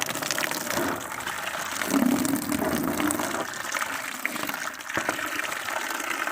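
Water pours from a tap into a plastic tub holding homemade washing powder, a steady gushing, splashing stream that swells briefly and runs for several seconds with no talking.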